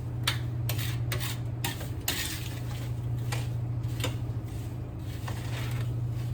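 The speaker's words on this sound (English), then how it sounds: "You do need to stir frequently." A spoon stirs thick blueberry jam in a pot, giving soft scraping and intermittent metallic clinks against the pot over a steady low hum, fairly quiet and with no voices.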